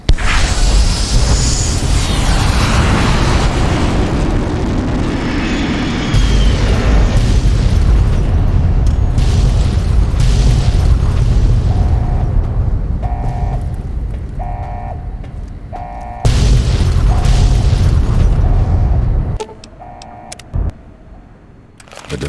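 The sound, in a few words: explosions and missiles falling in Fallout New Vegas video game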